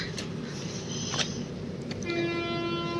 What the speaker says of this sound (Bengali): চলো, হর্ন দিয়ে দিয়েছে,